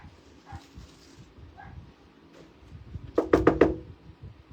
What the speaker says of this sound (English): it's almost 11 o'clock and she's barking